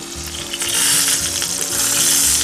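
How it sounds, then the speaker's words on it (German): Pear slices sizzle in melted butter in a pan, a loud, close, continuous frying hiss that swells as they settle in, with no talking. "Und dann legen wir mal die Birnenscheiben in die Butter."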